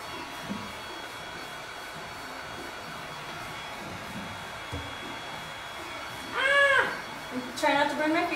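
A heat gun blows hot air on a WooduBend moulding with a steady, faint hiss under a person's talking, then a louder whine near the end.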